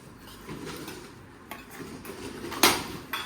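Steel plates and bowls clink and clatter as an evening fasting meal is served at home, with a few sharp knocks and one loud clang standing out against a soft kitchen background.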